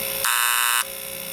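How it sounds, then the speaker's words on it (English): A septic system alarm sounds during a test: one steady, loud electronic buzzing tone that lasts about half a second, then cuts off. A faint background hum continues around it. "We hit the alarm test."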